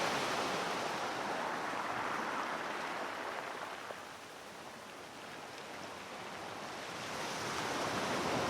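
Ocean waves wash steadily into a quiet cove on the Cornwall coast, a continuous broad surf roar that eases slightly midway and swells again, close and unbroken, with no voices.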